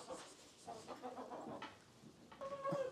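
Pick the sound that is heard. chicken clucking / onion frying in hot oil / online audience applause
chicken clucking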